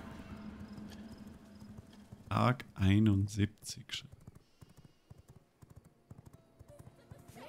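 Horse hooves clip-clopping and a whinny in a video game, heard faintly with a brief loud burst of neighing partway through, under someone talking.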